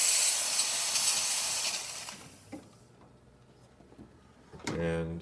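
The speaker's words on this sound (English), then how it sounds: "let's go ahead and check the steam. See, we're getting nice strong" An Expobar espresso machine's steam wand, freshly serviced after a full tune-up, blasts a strong, loud hiss of steam that cuts off after about two seconds, followed by quieter clicks and someone speaking nearby.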